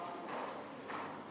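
A horse's hooves clip-clop softly in a riding arena during a dressage training session with flying changes, two muffled footfall bursts over a steady low background.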